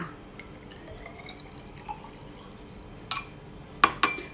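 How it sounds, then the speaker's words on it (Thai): Salt and plain water being mixed in laboratory glassware for an evaporation demonstration, with a few sharp glassy clinks and splashy drips standing out against a quiet background, two of them close together near the end; no speech. "แล้วเมื่อเรานำสารทั้งสองตัวนี้มาผสมกันค่ะ"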